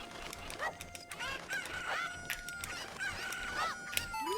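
Rooster crowing from the video game Majora's Mask, several drawn-out cock-a-doodle-doo calls overlapping one another, with clucks and honk-like fowl noises over a steady game background.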